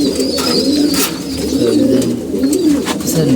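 Pigeons coo repeatedly at close range, soft throaty calls overlapping in a continuous murmur against a constant background hum.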